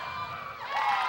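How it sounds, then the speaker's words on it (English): At a high school girls' basketball game between the SKHS Lady Wolves and Gig Harbor Tides, a gym crowd roars and shouts, swelling louder toward the end in a continuous burst of cheering. "And this crowd is getting loud."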